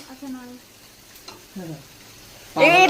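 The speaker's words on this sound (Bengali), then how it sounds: "এই খুন্তি পেয়ে গেছি, এই যে হ্যাঁ বের কর এটা। ও নাড়বে এবার" Food sizzling as it is stirred with a spatula in a home kitchen, a loud burst of frying noise arriving near the end after several short voices speaking quietly.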